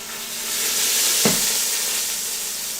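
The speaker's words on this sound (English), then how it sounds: "Everything's sizzling." Mushrooms roast in a single even layer in a pan over high heat, with a loud, continuous close sizzle and a brief stir or clatter partway through.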